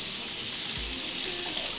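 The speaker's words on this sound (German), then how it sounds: "Ein Waschbecken und dieser Wasserhahn." Water runs steadily from a bathroom sink tap in a luxury duplex apartment, a continuous close hiss and splash with no talk.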